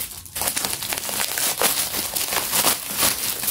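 A crinkly plastic package is torn and crumpled open by hand without scissors, a busy run of close, loud crackling and rustling that goes on throughout with no talk.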